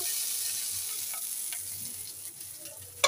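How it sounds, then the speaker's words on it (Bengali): Fish pieces fry golden in oil in a pan, giving a soft, steady sizzle throughout that is fairly faint, with a few light clicks and a sharper knock at the very end. "মাছগুলো একদম গোল্ডেন করে ভেজে নিয়েছি"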